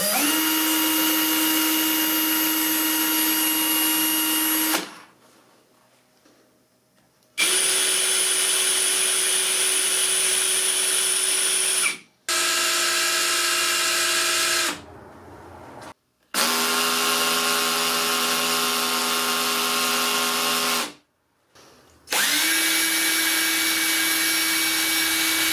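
Several cordless screwdrivers run unloaded one after another, each giving a steady, loud, close high-pitched motor whine lasting a few seconds, separated by short silent gaps, with different pitches from tool to tool.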